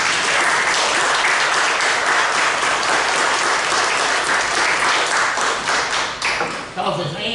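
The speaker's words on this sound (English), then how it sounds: "Let's give them a good round of applause." Loud, sustained applause from a crowd at a city council meeting in Prescott, Arkansas, a dense clapping roar that thins near the end as a voice starts speaking.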